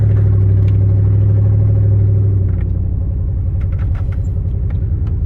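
A pickup truck with an LS1 5.7 liter V8 drives through Chicago, its engine a steady loud low rumble from inside the cab with slight shifts in pitch, no talking.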